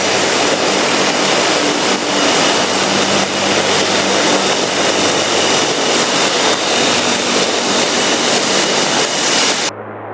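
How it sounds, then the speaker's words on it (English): A Tupolev Tu-95 four-engine turboprop strategic bomber drones loudly and steadily, a thick, roaring blend of propeller and engine noise with a low throbbing hum that holds constant before cutting off abruptly near the end. "The Tupolev Tu-95 is a large, four-engine turboprop-powered strategic bomber and missile platform"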